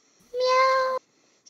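A person imitates a cat with a single sustained, nasal meow lasting over half a second, loud and close, followed by a brief quiet.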